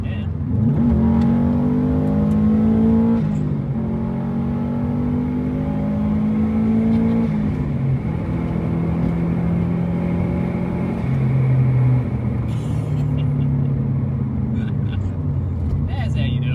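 Subaru WRX STI Type RA rally replica engine revving hard and continuously, a loud raspy rally-style roar with rising and falling pitch sweeps, while people talk over it.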